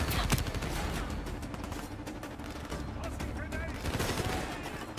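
Burst-rifle gunfire in the video game Black Ops 3, dense continuous shooting and combat noise filling the whole stretch at steady loudness, with speech mixed in.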